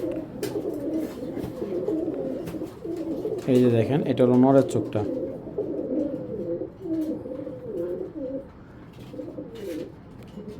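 Pigeons, a pair of crack-eyed fancy birds kept for sale, give soft low coos, with a clearer rolling coo near the middle, while someone talks over them almost throughout.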